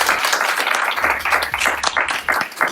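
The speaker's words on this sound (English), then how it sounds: "let's give our panelists another huge round of applause" The audience at a film-world Q&A panel on donations and sponsorships claps for the panelists, a close, lively burst of hand claps with distinct individual slaps that stays full throughout, with a few low voices faintly mixed in.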